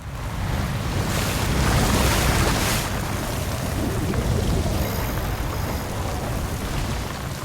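Loud, continuous roar of storm wind and heavy waves crashing at sea around a sailboat, a dense wall of rushing noise with no let-up throughout.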